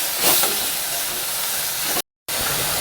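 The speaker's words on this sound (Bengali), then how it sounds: "গ্যাসের ফ্লেমটাকে লো করে দিলাম, কারণ আমি মশলাটাকে কষাবো।" Spice paste (masala) fries gently in a pan over a low gas flame, giving a steady, close, hissing sizzle. The sound cuts out for a brief moment near the end and then returns.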